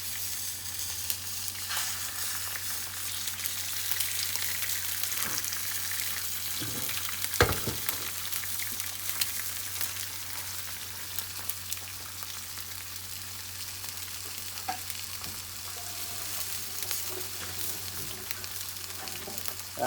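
Eggs fry in a pan with a steady, close sizzle and crackle, broken by a few sharper pops. No one talks over it.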